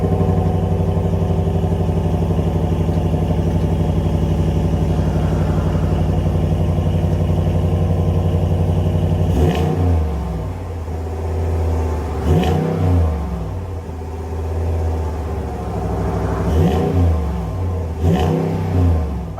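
A 2024 Ram 1500 Limited's 5.7-liter Hemi V8 rumbles at a steady, loud idle, then rises in four sharp revs spaced a few seconds apart, each dropping back to idle, close up with no talking.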